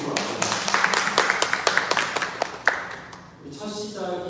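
A church congregation claps during a Korean Sunday service, giving a run of loud, fairly even, rhythmic handclaps. The clapping fades into quieter room sound, and then people can be heard talking.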